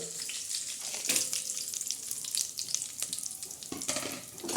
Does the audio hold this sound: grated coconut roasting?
yes